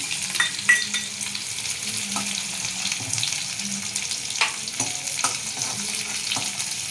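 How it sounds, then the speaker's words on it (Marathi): Chopped onion fries in oil in a wok with a soft, steady sizzle and a few scattered pops and scraping touches, close by and fairly quiet, with no voices. "कांदा घातला मी"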